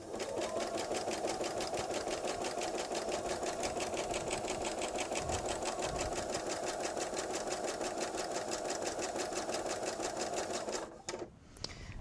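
A sewing machine stitches pieces of table runner fabric in one rapid, even, continuous run lasting about eleven seconds, then stops abruptly with a brief rattle.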